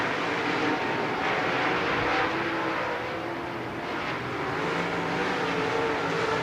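Late model race cars roar around Lernerville Speedway on opening night, a loud, continuous engine drone with rising and falling revs as the pack charges down the backstretch, no talk.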